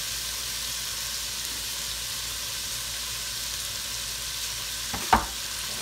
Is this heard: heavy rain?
no